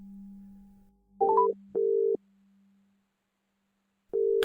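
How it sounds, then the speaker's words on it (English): Electronic phone ringing tone heard alone, with three steady beeping pulses at a fixed pitch and short gaps between them over a low hum, then cutting off. "The ringtone repeated several times, and then abruptly ceased."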